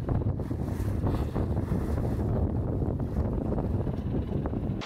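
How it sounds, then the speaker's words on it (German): Strong wind roars across the microphone aboard a sailboat crossing at night ahead of a gale, with waves washing against the hull in a steady, unbroken rush throughout. "steuert Sancho uns hier astrein durch die Wellen"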